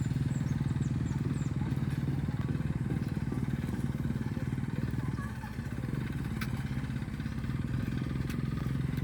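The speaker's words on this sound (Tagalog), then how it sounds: "Yung mga nakaimbak na lupa dyan, ayan ang ginagamit sa motocross. Pagpalipad ng motor." Motocross motorcycle riding on a dirt track near Mayon Volcano, heard from a distance as a continuous buzzing engine drone with slight dips, under wind and occasional talk.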